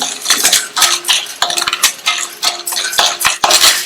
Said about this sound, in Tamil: 100 கிராம் கடலை பருப்பை சேர்த்துட்டு இந்த பருப்பையும் மீடியம் ஃப்ளேம்ல வச்சு கருகிராம நல்லா பொன்னிறமா வர வரையும் வறுத்துக்கணும்.